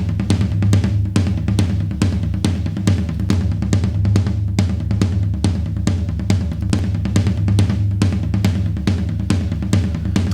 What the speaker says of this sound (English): Really pulls the energy out from those toms and brings out a lot of the room